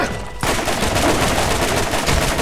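Loud gunfire in the video game Borderlands breaks in sharply after a brief lull, then a dense, rapid stream of shots continues without pause.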